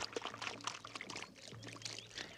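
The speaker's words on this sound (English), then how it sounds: "they heard the glugging sound of oil being poured over the wood" Oil glugging as it pours over stacked bonfire wood, a quiet run of gurgling, bubbling pulses close by with a faint low hum beneath.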